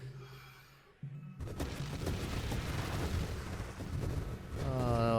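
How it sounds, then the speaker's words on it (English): Small splintering explosions in a video game, a dense, continuous crackle of many rapid little blasts and pops that swells in at once after a brief lull and stays busy and loud, with a faint ringing tone near the end. "I do love watching them splinter and then splinter again, and these tiny little itty bitty explosions come out"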